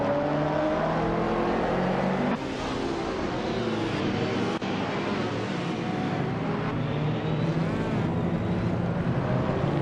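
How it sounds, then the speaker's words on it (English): Racing car engines, including a classic 1995 BMW M3 GT touring car, roar steadily in a video game race, with loud sustained engine drone and shifting revs throughout. "Leading the pack is the retro DTM car, Bot Famaka, zooming off in a classic 1995 BMW M3 GT R Evo Dole"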